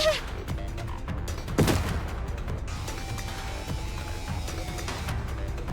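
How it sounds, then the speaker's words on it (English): A single gunshot from the Nikke: Goddess of Victory video game, one sharp loud crack standing out early against a busy background of game music and effects. "Fragile, did you shoot me"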